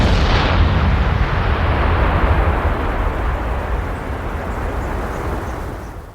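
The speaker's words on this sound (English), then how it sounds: "an enormous explosion rocks through the River Quay" An enormous dynamite blast at a bar at 4th and Wyandotte in Kansas City's River Quay, heard as a loud, deep booming roar that slowly rumbles and fades over several seconds, with no talk.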